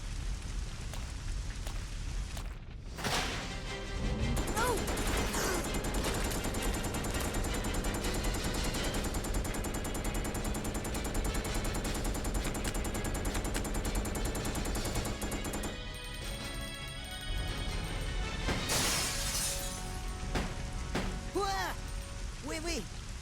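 Rapid gunfire from the video game Resident Evil Code: Veronica X, dense bursts of shots filling most of the stretch, with a brief pause early and a few voices speaking near the end.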